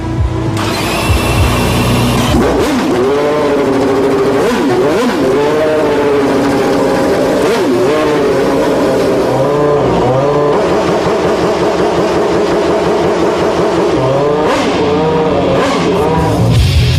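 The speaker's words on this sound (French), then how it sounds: "un moteur de Formule 1." A Renault Espace F1 minivan fitted with a Formula 1 engine of over 800 horsepower revs loudly and close, the pitch repeatedly rising and falling in sharp blips and sustained howls with no talk.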